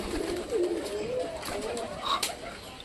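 Pet pigeons coo in soft, low, rolling calls close by, heard alone against a quiet outdoor background.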